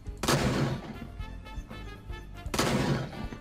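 Gunfire in the survival video game Fear the Night, two loud sharp shotgun-like blasts about two seconds apart with echoing tails, heard alone without talking.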